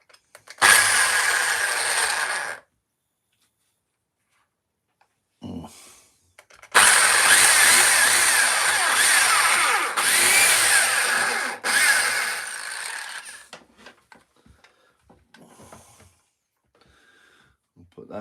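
Power drill boring a screw hole through glued wood in a woodcarving workshop, loud whirring bursts that start and stop several times, the longest run lasting several seconds, with pauses between.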